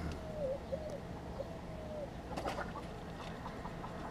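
Chickens and other birds in a coop cluck and coo faintly, with occasional agitated squawks over a low background hum, distant and quiet.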